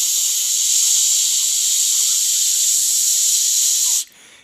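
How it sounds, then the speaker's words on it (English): A loud, steady hiss of steam rushes from a Ninja Foodi pressure cooker's release valve for about four seconds, then cuts off abruptly. "here I am turning the valve, so we are releasing all pressure"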